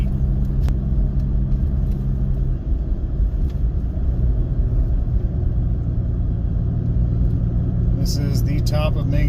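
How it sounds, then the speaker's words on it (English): A vehicle engine pulls a camper trailer uphill after a downshift, climbing toward a 7,000-foot mountain summit, with a steady low rumble that stays loud and even throughout, while a person talks over it. "So we had a downshift there. Need a little bit more RPM to pull it out and up the hill."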